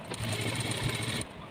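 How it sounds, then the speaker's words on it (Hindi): A sewing machine runs a continuous stitching seam along fabric as a V-neck smock dress is sewn, a steady close mechanical whir lasting about a second before stopping abruptly. "आपको ऐसे यहाँ पे सिलाई चला देनी है"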